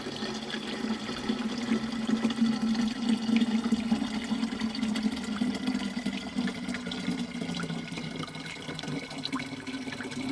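Water running from a stream in a rural village, a steady, moderately loud flow with gurgling and splashing throughout, no voices.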